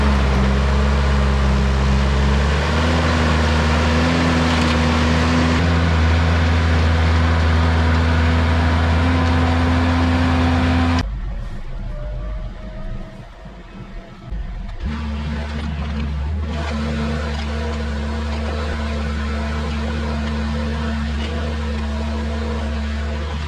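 A little mini excavator engine drones loud and close while pulling a stuck vehicle at a paver patio job, its pitch rising under load, then dropping off briefly before settling back into a steady run.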